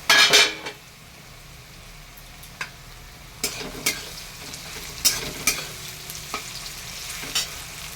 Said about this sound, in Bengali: পেঁয়াজটা আমি লাল লাল করে ভেজে নেব।